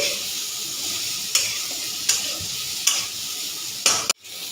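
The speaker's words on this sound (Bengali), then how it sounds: "প্রথমে উচ্ছেটা কড়া করে ভেজে নিচ্ছি" Bitter gourd sizzles steadily while frying crisp in a pan, a dense continuous hiss with a few sharper stirring scrapes at intervals, close and loud with no talk.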